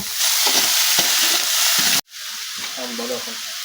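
Steamed banana stem is tossed into fried spices and stirred, giving a loud steady sizzle broken by scraping strokes, then a sudden cut to more sizzling with a brief voice.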